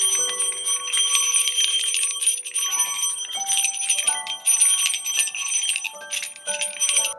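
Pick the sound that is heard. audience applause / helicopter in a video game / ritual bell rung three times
ritual bell rung three times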